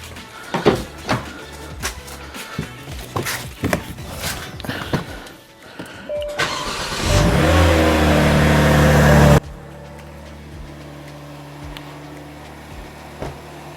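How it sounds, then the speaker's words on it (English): Clanks and knocks, then a car engine cranks and catches with a loud roar, settling into a steady low idle. "let's start up the engine."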